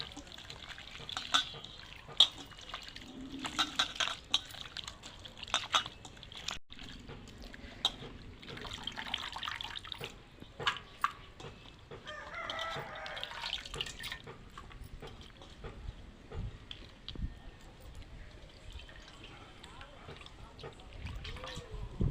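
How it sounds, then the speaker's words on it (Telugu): Spinach leaves washed by hand in salted water give soft, scattered splashes, drips and trickles, quiet and close, with a voice talking over the sloshing. "మంచిగా కడుక్కోవాలి పాలకూర కొంచెం ఉప్పు వేసి కడుక్కోవాలి"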